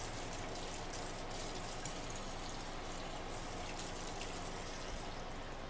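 Running water pours steadily to rinse a pan in a hotel room kitchen. It makes a constant, faint, even wash of noise throughout, with no talking.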